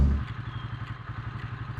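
A 150 cc motorcycle riding at steady cruising speed, its engine putting out a low, evenly pulsing clatter with light rattles, continuous and moderately loud.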